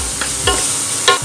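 Beans frying and being stirred with chili powder for masala pasta, a close steady sizzle with a few quick scraping strokes of the spoon, no voices.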